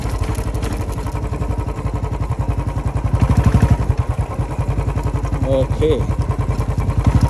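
A motorcycle engine runs steadily close by, with a throbbing mid-pitched drone that swells briefly, while a voice speaks over it.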